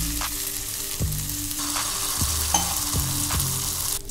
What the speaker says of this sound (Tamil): இப்போ வந்து நம்ம அடித்து வச்சுருந்த முட்டையை ஊற்றிடலாம்.